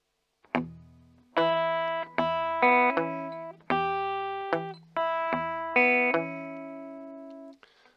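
Clean electric guitar plays the opening two bars of a rockabilly solo in E, with bright plucked double stops and short phrases in a lively, bouncing rhythm, each note ringing briefly before the next attack.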